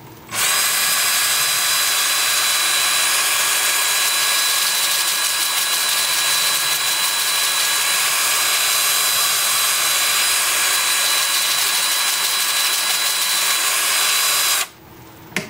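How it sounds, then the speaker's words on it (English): An electric drill set to forward whirs loudly and continuously at a steady pitch, then stops near the end. "switching my drill to forward."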